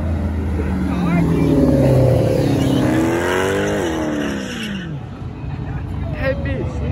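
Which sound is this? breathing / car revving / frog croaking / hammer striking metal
car revving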